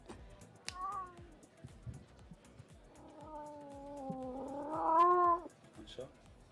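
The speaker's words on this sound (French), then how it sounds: "Un chat un peu enroué malgré tout." A hoarse cat meowing twice, a short rasping call followed by a longer, rising, strained cry, close and clear over a quiet room.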